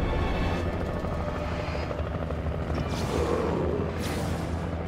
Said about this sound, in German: Als ob ich jetzt hier einen fucking Helikopter an meiner Seite habe.